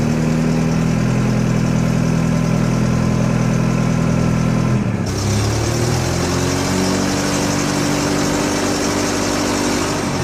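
Forklift engine running steadily and loud, a low idling drone that shifts in pitch midway as the lift lever is worked and gas applied, with no voices.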